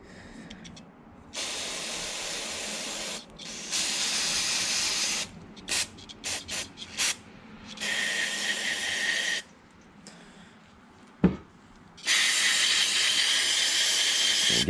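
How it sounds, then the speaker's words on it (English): Carburetor cleaner sprayed from an aerosol can onto and inside the carburetor of a Craftsman 21-inch 5 hp two-cycle single-stage snowblower, several close, loud hissing bursts of varying length separated by pauses, with a sharp click near the end. "I'm going to spray inside."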